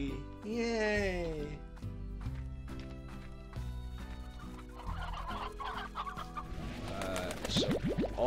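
Chickens cluck in the video game Slime Rancher, with rhythmic cartoonish clucks over game music while a person talks throughout.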